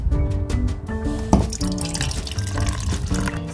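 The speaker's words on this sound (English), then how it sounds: "Now we measure 1 cup of the warm water." Warm water poured into a measuring cup for a kids' yeast and sugar experiment, a steady close splashing trickle with small drips and gurgles running the whole time, no talking.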